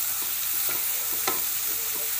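Crushed garlic and ginger fry in a pan for paneer bhurji, giving a steady sizzle with a few soft scrapes of a spoon stirring, one slightly sharper than the rest, close by and without speech.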